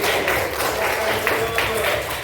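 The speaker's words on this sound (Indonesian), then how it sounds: "tepuk tangan untuk Sandi." Continuous crowd applause at a school teacher-training session fills the clip, a steady dense patter of many hands clapping at fairly close range, with a voice faintly underneath.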